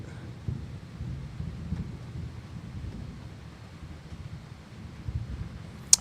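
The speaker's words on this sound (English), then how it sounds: "it's storming like a bitch outside" Low rolling thunder from a storm outdoors, a steady deep rumble swelling and fading across the whole stretch, with wind and rain noise mixed in and a sharp click near the end.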